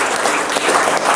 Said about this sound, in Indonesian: berikan tepuk tangan untuk kelompok Nesya